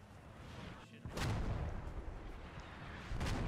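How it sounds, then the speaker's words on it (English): Artillery shells land in the World War II shooter Post Scriptum, giving a couple of heavy, rumbling booms with a sharp crack just after one second and again near the end, set over steady battlefield noise. "Okay, we got some artillery coming in."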